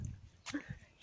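A dog out with its owner in a seaside park in Liverpool gives a short, faint yip or whimper amid outdoor ambience, brief and at a moderate distance.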